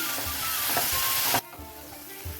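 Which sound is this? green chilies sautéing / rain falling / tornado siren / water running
green chilies sautéing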